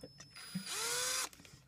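A handheld power drill whirs up to a steady high-pitched spin for about half a second, then cuts off, close and fairly loud, amid light handling noises in a room.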